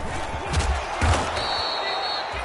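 A home crowd roaring in a football video game, a dense, loud wash of cheering with a few dull thumps, heard alone.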